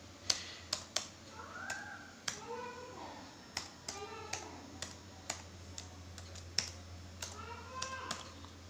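A password goes in on a computer keyboard as a sparse series of sharp, distinct key taps, close and fairly quiet, while a voice talks softly alongside.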